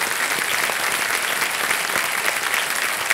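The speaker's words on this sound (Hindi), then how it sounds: "तालियां बजाएं इनके लिए।" Steady, dense clapping from a television quiz show studio audience welcoming a contestant, continuous and even throughout with no voices over it.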